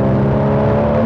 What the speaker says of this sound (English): let's drop it a couple of gears, third gear, go for it.